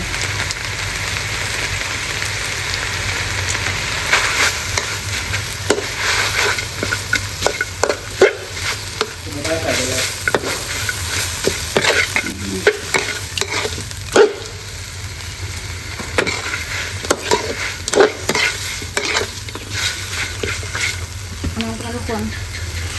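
Food stir-fries in a pan over a constant loud hiss, with repeated scraping and clattering of a utensil throughout and a voice talking intermittently.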